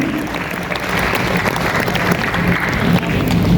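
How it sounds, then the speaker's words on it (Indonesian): An audience at a golok ceremonial event gives loud, steady applause, a dense wash of many hands clapping close by with no break. "Mari tepuk tangan dan sambut dengan meriah untuk Dr. Arifin Agustia dan juga Dr. Rusnan"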